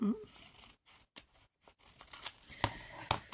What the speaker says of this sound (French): je prends un morceau et je viens couper très simplement